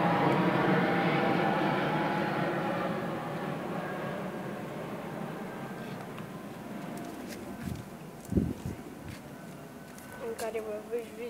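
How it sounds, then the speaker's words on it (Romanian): An airplane passes overhead during an outdoor vlog, a broad, droning roar loudest at the start and slowly fading over several seconds, with a person speaking briefly near the end. "Stați că trece avionul."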